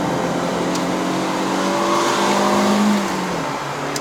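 The 1.3-litre engine of a 2021 Proton Saga with a five-speed manual drones and revs steadily from inside the car on a climb to Genting, its pitch rising and falling slightly under throttle, with no talking.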